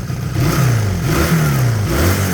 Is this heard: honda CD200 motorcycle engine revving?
yes